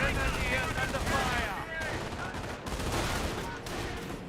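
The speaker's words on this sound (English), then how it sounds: "snipers firing away" Sniper rifles fire in Company of Heroes, a WWII strategy game, as a run of sharp, close gunshot cracks and echoing bursts with game sounds layered between them. A voice briefly talks over the opening.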